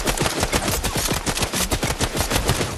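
Rapid, sustained assault rifle fire in the video game Fortnite, a loud, dense burst of closely spaced shots running continuously without pause.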